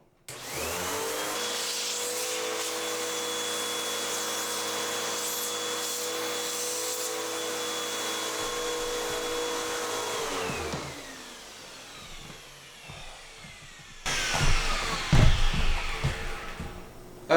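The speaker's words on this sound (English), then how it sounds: "Well, it's not a shop vac, it's my household vacuum." A household vacuum cleaner whines and drones steadily up close for about ten seconds, then winds down. Scraping and knocking follow as it is handled; no talking.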